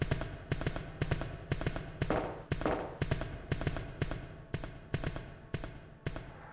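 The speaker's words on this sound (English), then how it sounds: "Ada's firing a bullet to feel important." Regular, evenly spaced gunshots from Ada in the Dreamcast version of Resident Evil 2, about a dozen sharp cracks roughly half a second apart, moderately loud against a low game background with no talking.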